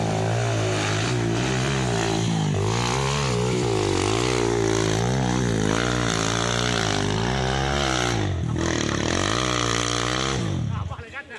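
A motorcycle engine at a hill-climb contest revs loudly and close, the pitch rising and falling in repeated surges as the rider works the throttle, then cuts off abruptly at the end.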